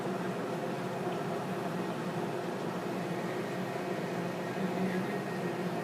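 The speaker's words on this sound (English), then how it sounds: "If you hear a lot of noise in the back, it's the dishwasher going." A household dishwasher runs in the background of a home, a steady broadband wash and hum that holds evenly throughout with no talk over it.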